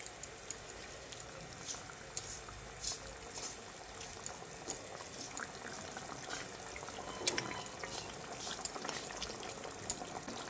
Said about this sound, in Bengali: তো দেখুন, গ্রেভি খুব ভালোভাবে ফুটে উঠেছে। এবার আমি ভেজে রাখা মাছগুলো গ্রেভির মধ্যে দিয়ে দিচ্ছি।